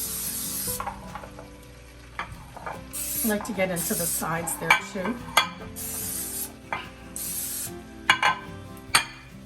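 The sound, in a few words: cooking spray sprayed into a brownie pan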